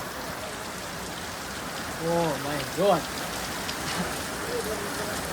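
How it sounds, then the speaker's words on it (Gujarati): Heavy summer storm rain pours down with a dense, continuous hiss, while a voice briefly exclaims partway through. "ભર ઉનાળે વરસાદ"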